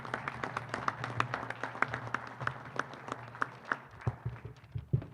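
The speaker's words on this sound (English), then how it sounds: "Big round of applause for John Anthony, ladies and gentlemen" Scattered applause from a modest audience at a college football press conference, individual claps distinct and uneven, fairly quiet and close, tapering with a few louder claps near the end.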